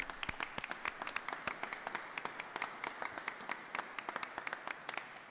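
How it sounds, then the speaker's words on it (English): A small audience at a ceremony for the International Day of Persons With Disabilities claps for an honoree, sparse distinct hand claps in an uneven rhythm, fairly faint and continuing for several seconds. "Let's have a round of applause for Mr. Chenard, please"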